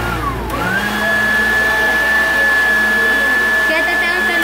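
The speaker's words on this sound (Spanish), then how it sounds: "Don Conejo licuando la horchata en la computadora" A blender whirs as it mixes horchata, giving off a loud, steady high-pitched motor whine. The pitch rises briefly at the start, then holds an even drone for several seconds with no talking.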